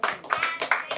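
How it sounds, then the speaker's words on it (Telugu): Audience members clap for a woman winner at a village game show for mothers-in-law and daughters-in-law, a short burst of several sharp, uneven claps close by, loud and unbroken by talk. "క్లాప్స్."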